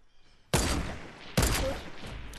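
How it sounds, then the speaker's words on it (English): Two heavy bolt-action rifle shots ring out in Fortnite, each one a loud, close crack followed by a long echoing tail, spaced about a second apart. "Someone was shooting at me with the bolt."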